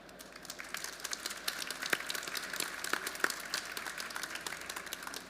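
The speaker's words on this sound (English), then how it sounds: "So a warm applause, please," Audience applause for panelists at the DMEXCO 2022 marketing conference, a steady wash of many hands clapping at moderate level with a few sharper individual claps standing out.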